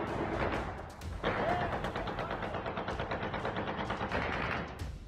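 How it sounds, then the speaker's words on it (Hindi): Night gunfire during a Taliban attack on Pakistan, rapid bursts of automatic shots cracking in irregular clusters at a distance, fairly faint, with a voice heard intermittently underneath. "सन्नाटे को चीरती गोलियों की इन आवाजों ने"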